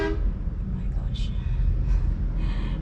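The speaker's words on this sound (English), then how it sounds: "sorry if you can hear a bunch of honking right now because I'm really on the side of the road." Car horns honking along a roadside in the Philippines, several short toots at moderate distance over a rumbling traffic background, with a person talking over them.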